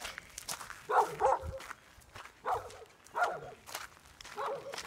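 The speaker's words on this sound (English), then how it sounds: "The neighbor's dogs." Neighbouring dogs bark in repeated short bursts, several yaps about every second, moderately close, with footsteps and faint movement between the barks.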